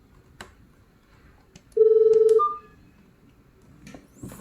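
A GSM fixed wireless desktop phone with its voice keypad feature on gives a single sustained beep-like keypad tone, loud and close, with faint clicks and quiet room sound around it.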